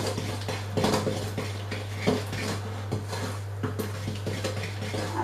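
A spoon works golden syrup into chocolate chip cookie dough in a bowl, giving repeated scraping and clinking against the dish in an uneven stirring rhythm, close and clear, under a constant low hum.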